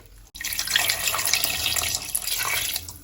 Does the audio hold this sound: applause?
no